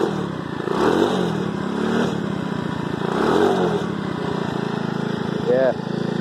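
A 2005 Pagsta 125cc Chinese chopper motorcycle engine runs with a steady, close, buzzy drone and a few light revs. A person talks over it throughout.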